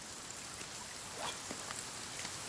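Steady rain falling in the video game The Forest, a soft, even hiss of drops with faint patters, quiet and continuous.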